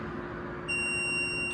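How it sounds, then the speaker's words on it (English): A long, steady electronic beep from a Hansshow auto trunk button being held for settings, a sustained high tone that starts partway in and holds to the end over a constant low hum. "You push the button down, you hold it down until you hear a long beep"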